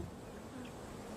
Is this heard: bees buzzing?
yes